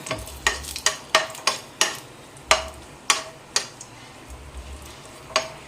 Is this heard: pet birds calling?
no